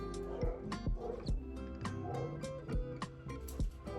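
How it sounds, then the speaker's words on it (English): Several dogs bark in sharp, irregular bursts, some close and some further off, repeating every half second or so over a low background hum. "sorry about the barking dogs."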